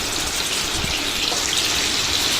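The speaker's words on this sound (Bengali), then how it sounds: "সর্ষের তেলের মধ্যে চিকেনগুলো ভাজতে দেওয়া হচ্ছে" Chicken pieces frying in mustard oil in a wok, a dense, even hiss of hot oil filling the whole stretch, loud and close with no voices.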